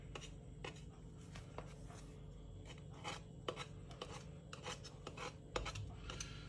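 Pastry for an apple pie being cut around its edge on a baking tray, a steady close rasping scrape with repeated short strokes and no voices.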